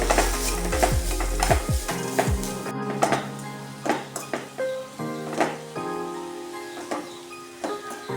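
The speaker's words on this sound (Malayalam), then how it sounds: "അരിഞ്ഞു വെച്ചിരിക്കുന്ന സവാളയും ക്യാബേജും ഒരു ടീസ്പൂൺ ഉപ്പ് നന്നായി ഇളക്കി യോജിപ്പിക്കുക" Chopped onion and cabbage with salt are stirred in a pan with a spoon, giving repeated scraping and clanking strokes over a light sizzle, close and uneven in rhythm.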